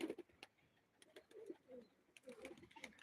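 Pigeons cooing in a few soft, low bursts, fairly close, with light rustling and fluttering noises between the calls.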